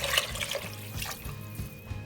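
Water poured into a simmering pot of vegetable and tomato alphabet soup, a close, uneven splashing trickle lasting about two seconds with no talk.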